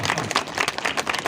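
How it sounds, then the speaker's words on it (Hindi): Loud applause from a crowd at a village political rally, a dense continuous wash of many hands clapping at once. "आप लोग का मैं एक बार जोरदार तालियों से स्वागत करना चाहता हूं।"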